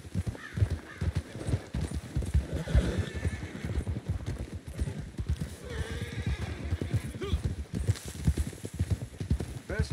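Horse hooves clip-clop steadily while a horse neighs in the video game Red Dead Online, with a person talking over the game sounds throughout.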